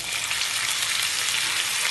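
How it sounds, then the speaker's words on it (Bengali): Mutton mince dropped into a hot pan sizzles loudly and steadily, a dense, even crackle close up with no talking. "এইবার এতে আমি দিয়ে দেব 250 গ্রাম মাটন কিমা।"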